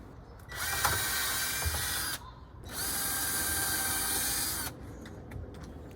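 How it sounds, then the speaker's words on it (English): A power drill whines at full speed while boring pilot holes into a clamped deck board for a catio deck, two sustained bursts of a couple of seconds each, separated by a short pause, with faint clicks afterward. "we're ready to drill pilot holes"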